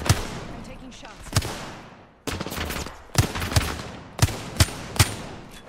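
Sharp gunshots from a video game shooter played on controller, a few scattered single cracks then several clustered bursts, loud and close over a busy game background.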